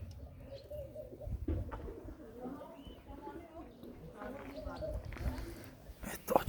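Pigeons cooing in a loft as their door is opened, low repeated coos mixed with soft wing and foot movement, with someone talking over them throughout.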